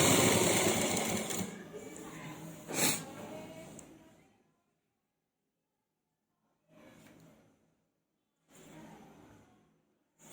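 A sewing machine stitches a lined kameez, running loud and steady for about four seconds before stopping, then giving two short, quieter bursts of stitching after a pause.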